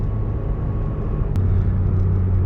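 A Mazda RX-8 rotary engine with an idle problem running while the car is driven and brought to a stop, a steady low droning hum inside the cabin with one brief click partway through.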